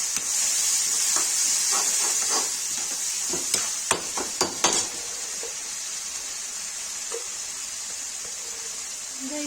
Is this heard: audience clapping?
no